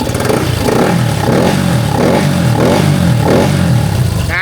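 A Honda Wave 110i motorcycle engine, running cold, revs in repeated short bursts, about five rises and falls in a steady rhythm, loud and close with a rattly idle between.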